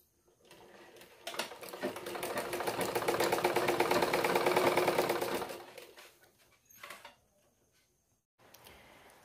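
A sewing machine runs steadily for about four and a half seconds while stitching the side seam of a cloth petticoat, then gives one brief short burst, close and fairly loud, with no talking.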